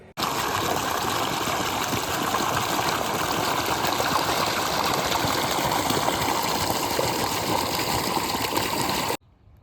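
Irrigation water for a cumin field flows and gushes in a steady, continuous rush, with a low engine-like pump hum underneath, then cuts off abruptly near the end.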